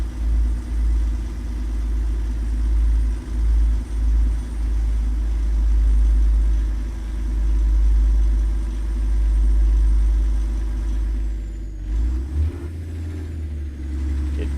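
Kenworth T680 truck engine in a driving video game, a steady low diesel rumble that drones on continuously and then shifts in pitch near the end as the Jake brake kicks in and the transmission downshifts.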